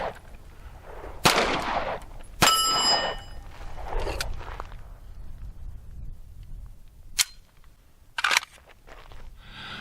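A Canik Rival-S steel frame pistol fires single shots outdoors, several sharp loud reports spaced a second or more apart, fired one-handed, with no talk.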